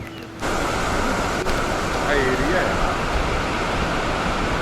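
Steady roar of a waterfall deep in the dense Andharban forest, a broad, constant rushing wash of falling water heard close and loud after a brief quieter opening.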